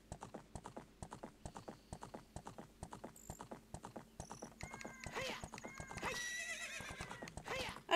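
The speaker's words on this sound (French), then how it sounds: "Cheval." The horse Epona in the Zelda: Ocarina of Time video game gallops with rapid, steady clip-clop hoofbeats, then gives a bright whinnying neigh near the end, fairly faint and with no talking.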